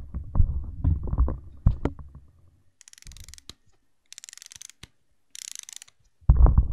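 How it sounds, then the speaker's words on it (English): Hand crank winding a 1962 Auto Carena 8mm film camera, heard close as bursts of ratcheting clicks and mechanical whirring separated by short pauses, ending in a louder rattling burst. "It doesn't have batteries, it winds up. Where's the crank though, you ask? Check this out. You turn the handle."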